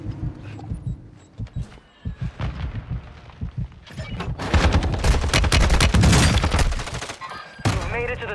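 Gunfire erupts in a shooter video game, starting with scattered single shots and thuds, then building into a dense, loud barrage of rapid automatic fire up close, with brief speech mixed in.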